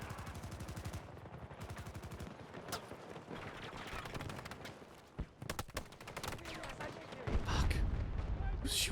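Rapid bursts of gunfire crackle through a Battlefield 2042 online match, dense automatic volleys and sharp cracks layered over distant battle noise, with a heavy thud near the end.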